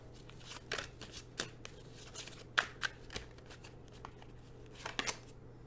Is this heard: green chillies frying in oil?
no